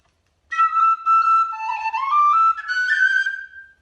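A short tune played on a small handmade whistle by Roy McManus, bright sustained notes stepping between pitches, loud and close, played solo with no talking.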